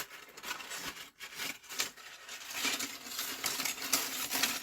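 Metal cutting dies being shoved back into storage, a continuous jumble of metallic rattling, rubbing and clinking, close and fairly loud with no talk.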